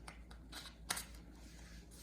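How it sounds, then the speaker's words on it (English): Scissors trim the edges of a handmade nature suncatcher on a yellow frame, giving a few soft, close snips and rustles with one sharper cut in the middle, quiet overall. "I'll take my scissors"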